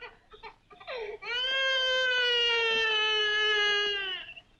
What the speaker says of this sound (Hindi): बच्चे के रोने की आवाज।